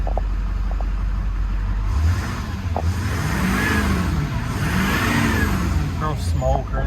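A 2006 Chevrolet Silverado 2500HD with Duramax diesel engine cranks over and idles, then revs up twice in rising and falling swells, with a person talking over the engine noise.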